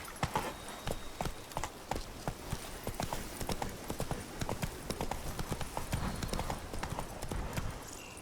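Horse hooves clip-clop in a steady galloping rhythm in The Witcher 3 video game, loud and close, pounding continuously throughout with a faint background ambience.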